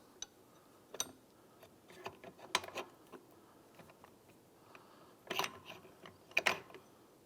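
Steel and friction clutch plates are worked onto the splined clutch basket of a Kawasaki KLX110 pit bike, giving quiet, close metallic clicks and light clatter in scattered bursts, with a busier cluster near the end.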